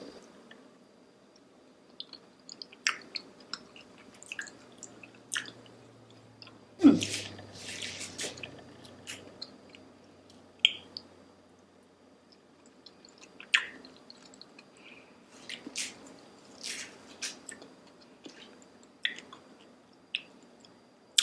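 Vegan deviled egg white is chewed close to the microphone, with soft, wet, squishy chewing sounds in irregular bursts over near-silence and one louder thump partway through.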